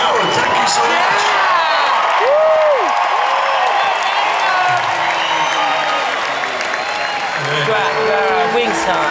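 A concert crowd cheers and applauds at a show in Austin, Texas: a steady, loud wash of clapping and whoops fills the space, with shouts rising over it and a voice speaking on top.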